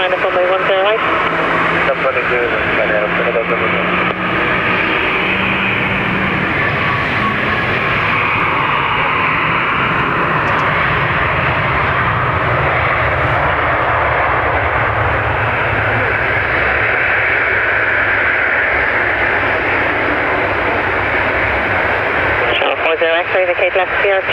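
Airplane engines rumble and whine steadily on the runway at Dublin Airport, a loud, continuous drone with air traffic control radio talk over it.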